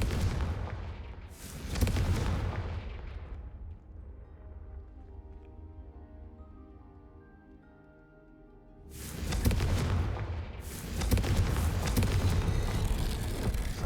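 Confringo explosion spell in a magic video game, two loud booming blasts separated by a quieter rumbling stretch, with no talk over them.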